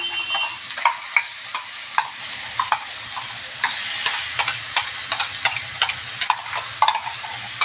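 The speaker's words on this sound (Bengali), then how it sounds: "পেস্টটাকে ঢেলে দিলাম।" Onion, tomato and garlic paste goes into a hot pan for paneer masala, giving a steady sizzle with repeated scraping and stirring clicks close by, without talk.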